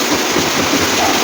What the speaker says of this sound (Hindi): आज हल्द्वानी में ज़ोरदार से बारिश शुरू हो गई है।